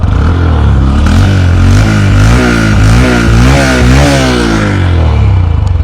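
A Honda CB Hornet 125cc motorcycle engine idles and revs up and down close by, its exhaust note rising and falling in loud, throaty waves.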